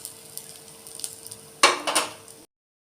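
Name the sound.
lifting fried pabda fish out of the pan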